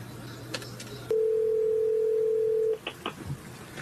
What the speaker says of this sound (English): Let me get my phone ready.